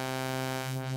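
A sustained synth tone runs through a phaser with its feedback turned up, producing a steady buzzy drone with many resonant ringing harmonics and a slowly sweeping comb-like shimmer in the upper range, brief and quiet.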